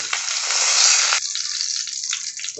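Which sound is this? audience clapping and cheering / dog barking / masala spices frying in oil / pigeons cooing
masala spices frying in oil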